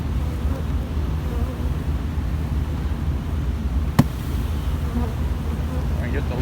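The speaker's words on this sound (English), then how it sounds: "I get the last of the bees." Honey bees buzzing steadily during a bee rescue, a dense low continuous drone close to the microphone with one sharp click partway through and some wind rumble.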